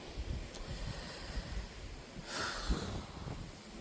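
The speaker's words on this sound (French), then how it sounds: "Ici, il y a toujours beaucoup de vent" Strong wind buffets the microphone in low, rumbling gusts, swelling louder near the end, with no voices.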